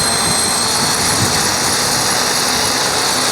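A rocket-powered RC helicopter with a first-person-view camera runs near full RPM, giving off a steady, loud, broadband roar with a high whine on top. It holds constant throughout with no talk.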